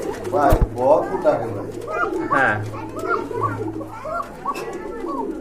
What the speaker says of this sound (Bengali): এক জোড়া কবুতর খুব ভালো ডাকে